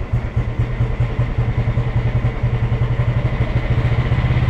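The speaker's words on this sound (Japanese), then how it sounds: "スロットルの方 を回して回転を上げていきたいなと思います。" A motorcycle engine is revved with the throttle during a tachometer restoration test; a loud, steady, rapid low-pitched engine pulse runs throughout, close and alone.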